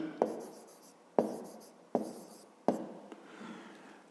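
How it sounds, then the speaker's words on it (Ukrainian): Handwriting on paper during a fifth-grade maths exercise: four distinct, sharp pen strokes spaced about a second apart, each trailing into a soft scratch, close and fairly quiet with no voices. "Пишемо, отже."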